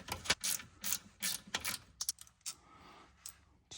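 A ratchet loosens a 10 mm bolt on the power steering line of a Cadillac CTS-V during steering rack removal, giving several short bursts of quick clicking with brief pauses between them, close up and fairly quiet.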